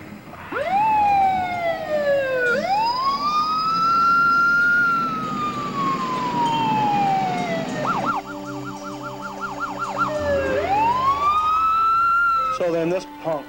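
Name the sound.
siren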